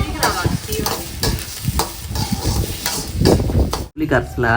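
Tomatoes fry and get stirred in a pan for a fish curry, a loud, close, continuous sizzle with repeated stirring scrapes, then a brief pause and a voice near the end.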